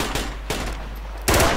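Gunfire in the military shooter game Project Reality comes as three short, sharp bursts of slow, deliberate shots, loud and close, with little else around them.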